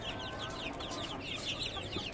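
Fifteen-day-old Hili breed chicks cluck and chirp continuously in a dense, close flock, with many overlapping high peeps and soft clucks and no talking.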